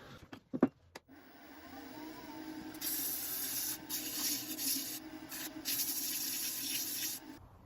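Sandpaper rubbing the inside of a handmade wooden apple box, a steady close scratching that starts after a few knocks and runs in long continuous strokes with brief pauses.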